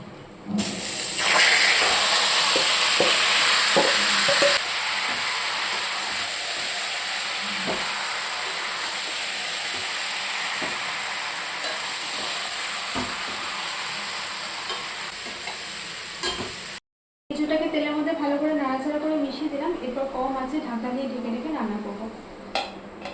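Green jackfruit pieces frying in mutton fat with whole spices such as cardamom give a loud, close sizzle, with stirring scrapes and pan clatter repeating throughout; it cuts off briefly near the end, and a voice talks in the final stretch.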